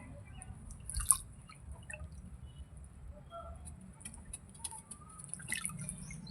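Sparse water drips and faint splashes as a pigeon's wings are soaked, quiet and close over a low background hum, with no speech.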